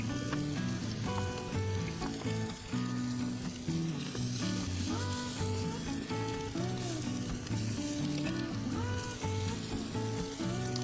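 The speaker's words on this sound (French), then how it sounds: "dans le gras on va faire revenir la viande" Beef browning in hot fat in a pan for boeuf bourguignon, a loud, steady sizzle and crackle close up, with occasional stirring scrapes and no voices.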